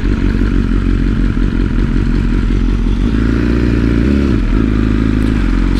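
A tuned 2022 BMW S1000R motorcycle rides at slow speed on partial throttle, its engine droning steadily and loudly up close with a brief dip in pitch midway.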